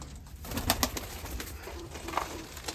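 A pigeon coos in a loft of Mykolaiv breed pigeons, a few soft, low, throaty calls close by over a faint background hiss.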